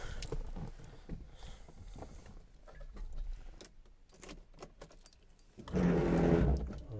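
Car keys to a Porsche 944 Turbo jangle faintly and intermittently up close, followed by a louder rustling, clunking burst near the end, with no talk.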